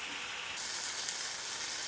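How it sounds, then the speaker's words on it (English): Burgers sizzle steadily in a hot pan, a dense continuous hiss with no voices over it. "We're going to let these things sizzle up"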